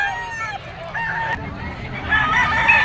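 A Boston Sweater bloodline bullstag gamefowl rooster, national banded, at a scratch pen sale. Short honking squawks and calls sound a few times close by over a background of chatter and other birds.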